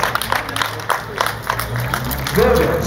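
A crowd at the finish of a cadet cycling race in Brissac-Quincé applauds. Scattered claps and crowd noise sit under an announcer on a loudspeaker, with a low rumble throughout.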